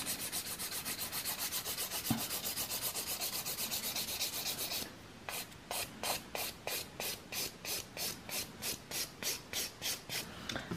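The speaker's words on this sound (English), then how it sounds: "So I'm just going to file out here a little bit more." Nail file rasping across an encapsulated acrylic nail, first as continuous fast scratching, then as slower distinct back-and-forth strokes in a regular rhythm, close and quiet with no talking.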